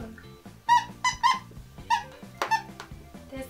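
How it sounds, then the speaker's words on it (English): A squeaky plush dog toy shaped like a tiger with a dinosaur head and body gives a rapid series of short, high squeaks in quick irregular bursts, close and clear. "The squeak is all through it."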